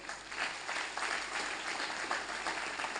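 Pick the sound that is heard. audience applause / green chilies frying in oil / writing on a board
audience applause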